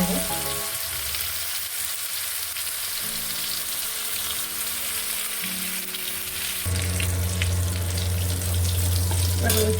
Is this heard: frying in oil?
yes